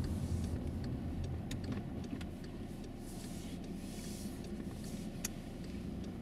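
Inside a car on the road during a driving lesson, a steady low engine and road rumble holds faint and even throughout, with a few light clicks and no talk.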